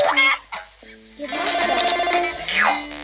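A chicken in the Vlad and Niki children's video game clucks in a short series of bright, nasal calls, loud and close, with a brief pause in the middle.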